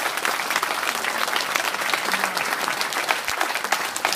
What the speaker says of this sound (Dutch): Applaus voor.